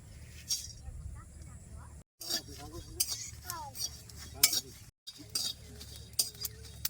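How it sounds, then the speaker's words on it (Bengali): Light metallic clinks and scraping of spices stirred in a dry pan, intermittent and close, with a faint background hum. "কড়াই গরম হয়ে গেছে এখন আমি শুকনো মশলা দিই শুকনো খোলায় বাজে নেবো"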